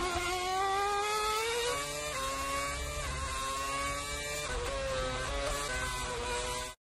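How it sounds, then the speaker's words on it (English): Formula 1 car V8 engine screaming at high revs on track, a loud continuous harmonic whine with slight pitch shifts as it changes gear, heard alone before cutting off abruptly. "Also on the engine sound, which is a V8 engine, much better than the actual V6 turbo engines."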